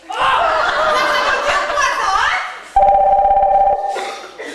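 A telephone bell ringing in a steady electronic trill during a stage play, starting right after a stretch of laughter from the cast.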